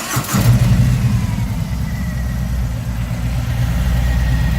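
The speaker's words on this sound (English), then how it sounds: "I got Vance Hines exhaust on it, and I'm gonna start it up and give you a listen." A Harley-Davidson Freewheeler trike fitted with Vance & Hines Twin Slash round slip-on mufflers fires up and settles into a loud, steady, deep idle that rumbles throughout with no voices.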